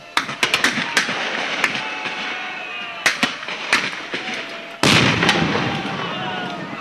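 Cannon fire in a staged reenactment of the Acre conflict with Bolivia: a rapid string of sharp, loud blasts and pops over a rumbling, smoky din, with a heavier boom near the end.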